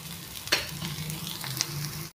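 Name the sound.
broccoli tikki patties shallow frying in a pan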